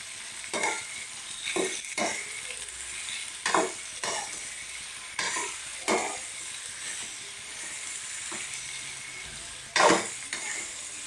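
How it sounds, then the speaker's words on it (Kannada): Tamarind and tomato fry in a pan with soft sizzling, while a spoon scrapes and stirs in repeated sharp bursts every second or so, close and fairly quiet. "ಈಗ ಹುಣಸೆಹಣ್ಣು ಹಾಕಿ ಟೊಮೊಟೊ ಹಾಕ್ಕೊಂಡು ಚೆನ್ನಾಗಿ ಡ್ರೈ ಮಾಡ್ಕೊತಾ ಇದ್ದೀನಿ."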